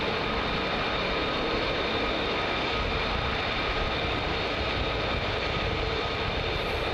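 F-35 fighter jets at RAF Lakenheath at night produce a loud, dense, continuous engine roar that stays close and unchanging from start to finish, with no talk.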